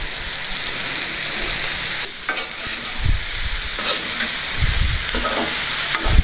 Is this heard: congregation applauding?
no